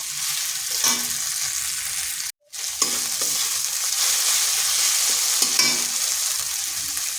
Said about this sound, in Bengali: এটা ভেজে নিচ্ছি যাতে আদা রসুনের পেস্ট মানে গন্ধটা